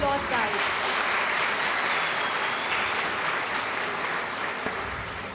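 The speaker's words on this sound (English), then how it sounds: "A big round of applause, guys." An audience at a technical conference welcomes a talk with a sustained, even wash of dense clapping from many hands, loud and continuous throughout, easing slightly at the end.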